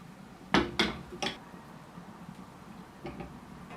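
Cooked white rice being fluffed in a cooking pot, giving a few sharp utensil clinks and scrapes against the pot, with two louder taps close together early on and softer ones near the end.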